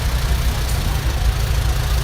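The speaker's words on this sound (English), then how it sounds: "That was a big tractor when it came out in the field." A 1966 Minneapolis Moline tractor runs at a summerfest tractor parade, a loud close low engine rumble with steady broadband outdoor noise and no talking.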